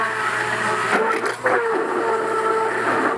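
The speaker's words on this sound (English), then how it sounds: "I'm going to use the immersion blender today" An immersion blender whirs through custard made with vanilla and salt, a steady close motor drone with a brief dip and shift in pitch midway.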